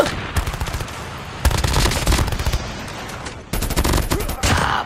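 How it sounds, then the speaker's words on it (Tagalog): Gunfire in a multiplayer shooting video game, loud rapid automatic bursts in several long volleys separated by brief gaps, close and dominant. "May bumabaril sa likod ko"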